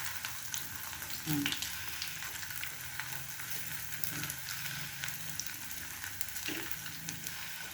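Maling luncheon meat frying in a pan: a steady, loud, close sizzle runs throughout, broken by occasional scrapes and soft knocks as slices are flipped.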